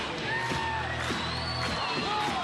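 Studio audience at the 1992 UK Gladiators Grand Final cheering and whooping, a steady roar of crowd noise with shouted voices rising above it throughout.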